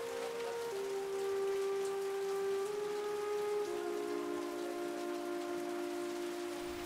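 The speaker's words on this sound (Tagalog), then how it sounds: "Nung gabing yon, tunog ng ulan ang naghele sa mga bata." Rain falls on a parked jeepney at night, a steady dense patter, with a sustained droning tone running underneath.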